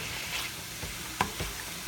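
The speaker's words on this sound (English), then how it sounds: "I just added in some red onions to the zucchini." Red onions and zucchini cooking in a pan, a soft, steady sizzle with a few spatula scrapes and taps, fairly quiet and close.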